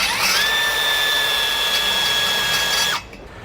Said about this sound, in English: drill these out